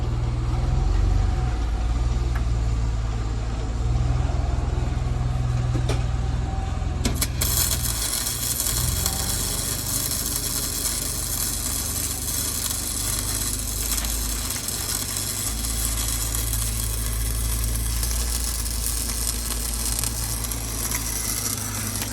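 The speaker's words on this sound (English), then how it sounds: "So I'm going to be quiet and let him go ahead and weld for a second." Arc welding a steel plate onto the underside of a cracked RV frame I-beam, a steady close crackle and hiss running continuously for the whole stretch over a low rumbling background, with no talking.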